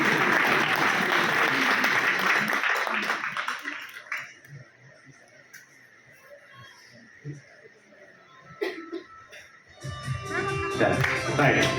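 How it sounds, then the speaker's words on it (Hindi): An audience breaks into loud, dense applause at a business seminar in India, with the clapping swelling near the start, thinning into scattered claps and voices, then rising again at the end. "जोरदार तालियां, जोरदार तालियां"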